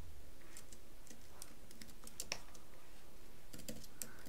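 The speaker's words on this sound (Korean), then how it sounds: "컨트롤 7번 눌러서" Computer keyboard in an Adobe Illustrator session, soft scattered key presses and clicks at low level, with no voice heard.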